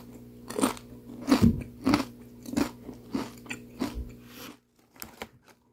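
Lay's Classic potato chips crunching between the teeth, several loud, close bites and chews in an uneven rhythm, then a brief quieter stretch with a couple of light crackles at the end.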